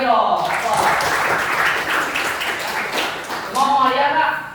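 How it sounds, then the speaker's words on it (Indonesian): Junior high students clap together in a classroom during a football lesson, a dense burst of applause lasting a few seconds, with voices talking just before and after it. "Tepuk tangan lagi dong."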